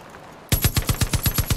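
Rapid automatic gunfire in the video game Far Cry 5 bursts out after a brief quiet start, about eight sharp shots in a steady rhythm, loud and close, with a thin high electronic tone above.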